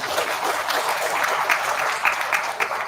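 Audience clapping breaks out during a lecture on Srimad Bhagavatam: a dense, even wash of many hands, moderately close, sustained for a few seconds with occasional sharper claps standing out and no speech over it.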